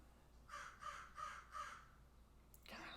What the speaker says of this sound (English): There's like a crow nesting in a tree next to my house, and they just really go at it.